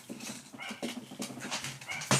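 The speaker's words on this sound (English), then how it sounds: "My dogs make a huge, loud," Several pet dogs bark noisily and excitedly at home as someone arrives, with repeated overlapping barks at close range, fairly loud throughout and a sharper burst at the end.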